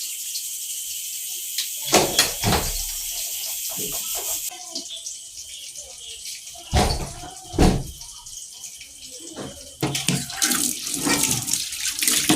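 Tap water runs into a kitchen sink while dishes are washed after cooking beef, coming in irregular splashing bursts of varying loudness with brief clinks between.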